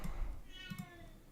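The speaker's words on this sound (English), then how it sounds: "you can probably hear my cat outside." A single drawn-out meow from a cat, somewhat faint as if from outdoors, with a little low background noise.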